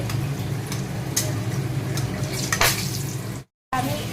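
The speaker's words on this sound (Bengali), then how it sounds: "তো আমি বাদামটা ভেজে নিয়েছি" Peanuts frying in a home kitchen pan, a steady close sizzle with light scrapes and ticks, cut by a brief gap of silence near the end.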